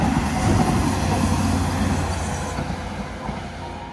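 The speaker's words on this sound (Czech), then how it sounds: "Tak to jel akorát včas, díky vlaku." A train rolls past in a Prague neighbourhood, a broad steady rumble of wheels on rails with faint squeal, loud at first and slowly fading as it moves away, no voices.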